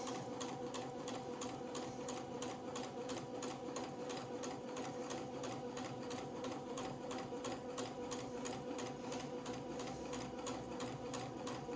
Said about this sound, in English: I'm going to sew a seam at the center of the fronts and the backs.